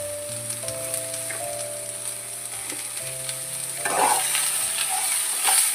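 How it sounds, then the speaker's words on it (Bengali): Vegetables stirred in a hot pan for Bengali fish curry, a moderate sizzle with scattered spatula scrapes and a few steady tonal hums in the background; the sizzle swells toward the end. "আর একটু নাড়াচাড়া করে নেব"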